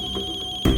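A mobile phone rings with a repeating electronic tone in a tense scene from a Hindi crime drama, steady and fairly loud, before a louder sound cuts in at the end.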